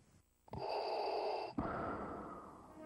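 Darth Vader's mechanical respirator breathing from a Star Wars Rebel Assault II cutscene: one close, hissing inhale followed by a raspy exhale, heard alone.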